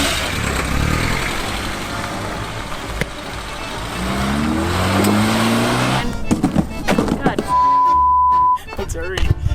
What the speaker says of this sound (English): So we've set up a really interesting brake test.